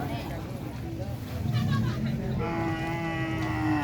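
A cow, newly brought in by a raider hunting team, lets out a couple of low, drawn-out moos at moderate distance, mixed with background chatter and people talking nearby.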